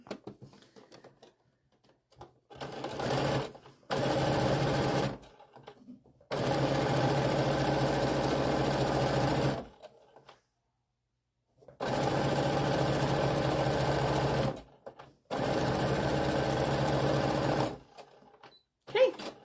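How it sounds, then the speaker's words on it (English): A Baby Lock Brilliant sewing machine stitches a quarter-inch seam joining two striped fabric pieces, running in four loud bursts of steady motor whir with brief pauses between them, up close and with no talking. "I have two little stripy pieces, and I'm going to just sew those together now."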